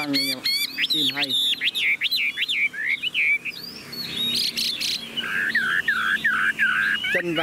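A tame Chinese hwamei songbird sings a long, varied run of loud, close warbling phrases and rapid chirps, with a faint insect-like background hiss throughout.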